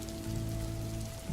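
Steady rain falls over an animated village, a dense continuous patter with low rumbling beneath, no voices.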